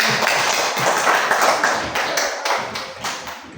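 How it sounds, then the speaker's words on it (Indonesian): Students in a classroom applauding, a dense burst of many hands clapping together that gradually tapers off, with no talk over it. "Ya, beri tepuk tangan dulu."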